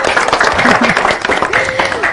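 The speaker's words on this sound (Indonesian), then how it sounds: "Kasih tepuk tangan buat Bunda dong." Loud applause from an audience at a business talk for a woman called Bunda, brisk clapping close by with voices talking and calling out over it.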